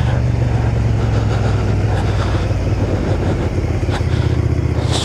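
Suzuki SV650 600cc motorcycle riding in commuter traffic: a loud, steady engine drone with a low harmonic hum and rumbling wind throughout, no pauses.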